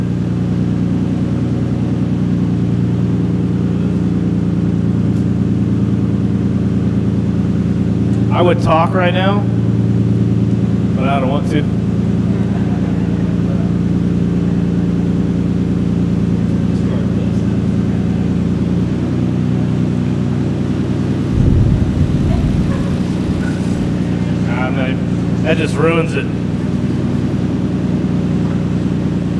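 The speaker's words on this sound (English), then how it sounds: "we're gonna let it just warm up for a second real quick so we're not cold revving it" A non-stock 1999 Nissan R34 GT-R with an aftermarket exhaust and a Nismo front-mount intercooler idles while warming up, giving a loud, steady, unbroken drone throughout, with a few short spoken remarks over it.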